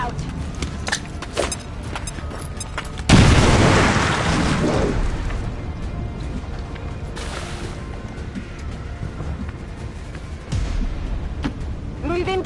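Grenade blast in the video game XCOM 2, one sudden loud boom that fades into a rumbling tail, set among game sounds and voice callouts.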